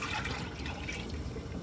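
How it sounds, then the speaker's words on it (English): Grape juice pours steadily into a pot on the stove while making preserves and jelly, a continuous splashing liquid stream close by with no pause. "See if I can pour it in there without spilling it."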